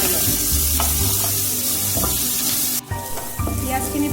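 Onions and vegetables fry for momo stuffing, a loud continuous sizzle in a hot pan with stirring scrapes throughout, briefly dropping off before the sizzle resumes.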